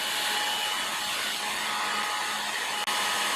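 A hair dryer runs steadily on a leather Brooks B66 bicycle saddle, a loud continuous blowing whir with one brief dropout near the end.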